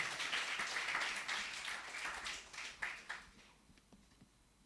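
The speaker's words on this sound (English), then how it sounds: "Another round of applause for Bridget Buama Apia." An audience applauds at a science pitch competition awards ceremony, a fairly faint burst of clapping that swells and then fades out over a few seconds.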